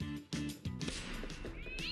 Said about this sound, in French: lorsque des poubelles tombent, on entend toujours un chat qui miaule